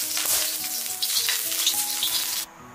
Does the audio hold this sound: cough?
no